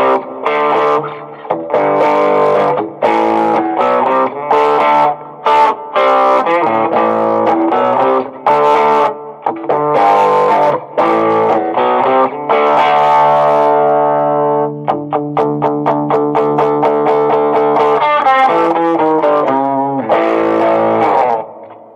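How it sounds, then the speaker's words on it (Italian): Squier Sonic Stratocaster HT electric guitar with a ceramic pickup, played through heavy distortion with volume fully open and tone around 7, loud sustained chords and riffs throughout with no talking. "Anche a livello di distorsione questo pick up ceramico lavora bene, non è proprio così acido come pick up"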